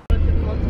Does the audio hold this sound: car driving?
yes